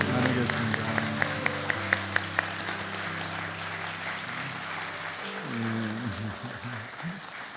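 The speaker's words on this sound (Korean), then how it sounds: "환영과 축복의 박수를" A church congregation claps to welcome a newly installed pastor at an installation service, with a run of sharp claps early on over sustained music and voices, the clapping fading into the background.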